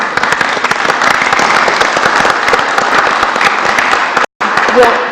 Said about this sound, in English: if we could give a round of applause for Mrs. Darworth